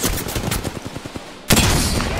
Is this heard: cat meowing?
no